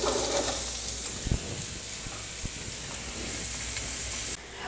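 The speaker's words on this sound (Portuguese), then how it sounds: "Agora, eu vou colocar o alho poró e vou deixar esse alho dar uma fritadinha." Leek sizzling in heated olive oil in a frying pan, a steady close hiss with a couple of brief stirring knocks, heard alone.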